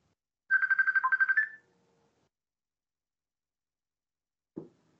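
A mobile phone ringtone plays a quick run of about ten bright repeated tones for around a second, loud and close, then silence, with a brief dull knock near the end.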